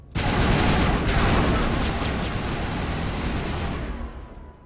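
Turrets in the Mass Effect video game fire a dense, sustained barrage of rapid gunfire that fills the whole stretch before tapering off near the end.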